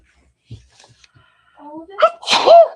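After a few soft shuffles and a brief voiced sound, a woman lets out one loud, close, sharp sneeze with a quick inhaled build-up.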